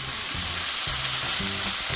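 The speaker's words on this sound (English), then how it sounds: "now let's sizzle that sausage up in the pan" Steady, crackling sizzle of sausage frying in a hot pan, close up, with a few low clunks of a utensil moving the food.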